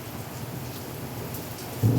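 A thunderstorm pours steady, hissing rain while a low rumble of thunder builds and swells louder near the end, with no voices.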